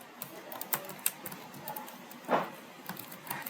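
Sparse, light clicks of a computer keyboard as someone types Python code, with scattered single keystrokes and one heavier tap midway, close and quiet with no voices.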